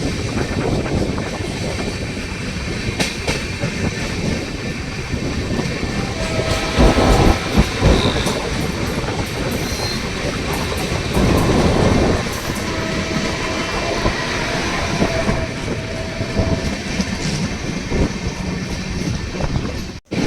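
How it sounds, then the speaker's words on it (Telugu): Arakonam–Kadapa passenger train rolling into Koduru railway station, its steady rumble and rhythmic clickety-clack of wheels on rail joints filling the whole stretch, loud and continuous with swells of louder clatter. "మనం కోడూరు రైల్వే స్టేషన్ అయితే ఎంటర్ అవుతున్నాము"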